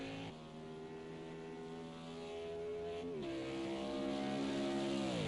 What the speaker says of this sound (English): sounds like he's using a lot more downshifting to actually get the car to rotate through the corners